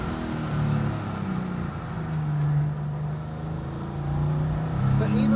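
A Porsche 911 driven hard through corners: a close, steady engine drone that rises and falls with throttle and revs, the note swelling and easing as the car is pushed through the turns.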